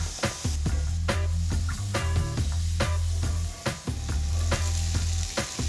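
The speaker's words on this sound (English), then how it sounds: "add it to the hot pan and start by sauteing some onions" Onions, red pepper and corn sauté in oil in a hot pan, a continuous loud sizzle broken by repeated sharp clatters and scrapes of stirring, close and with no voices.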